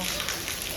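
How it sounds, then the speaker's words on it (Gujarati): First rain of the season falls steadily with a dense, even hiss, with no gaps and no separate drops standing out. "મિત્રો આ વરસાદ પડે છે"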